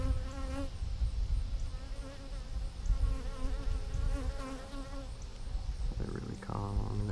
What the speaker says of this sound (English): There's a lot of bees on this side.